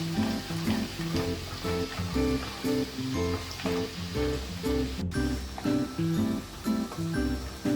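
Garlic, ginger and turmeric fry on high heat in a pan for a prawn coconut curry, giving a steady, close sizzle with soft stirring scrapes and a faint musical bed underneath.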